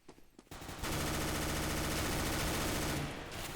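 A UMP submachine gun fires in early Counter-Strike: Global Offensive alpha gameplay, a dense, loud sustained burst of rapid shots lasting a few seconds, preceded by brief quieter game noise.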